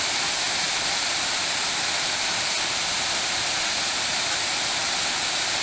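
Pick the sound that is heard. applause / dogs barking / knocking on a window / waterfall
waterfall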